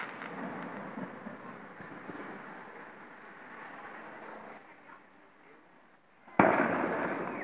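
Fireworks display in Bologna: distant rumbling and crackling bursts throughout, then a sudden loud nearby boom near the end.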